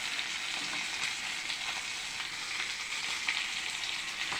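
Fish heads frying in hot oil, a steady close sizzle with dense crackling that holds at an even level throughout with no voices.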